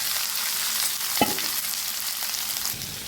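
Cut vegetable pieces for a mixed vegetable curry sizzle steadily in hot oil with curry leaves and tempering in a pan, a close, continuous crackle with one sharper burst partway through.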